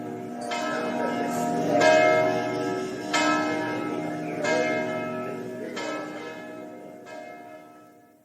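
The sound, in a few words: church bell of St Mark's Square, Venice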